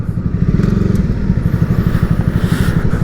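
Twin-cylinder motorcycle fitted with a genuine Akrapovic exhaust, heard in Bangkok traffic: a loud, close, rapid pulsing engine drone with an even throbbing rhythm across the whole stretch, no voices over it.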